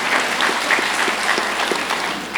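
Steady, dense applause from an audience at a school graduation ceremony, a continuous even patter of many hands clapping with no talk over it.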